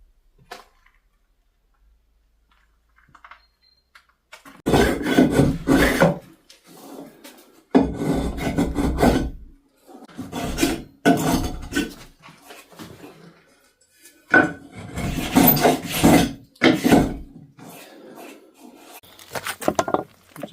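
Hand sanding a wooden plug set into a newel post finial, heard as bursts of dry raspy rubbing strokes separated by short pauses, fairly close and with nobody talking.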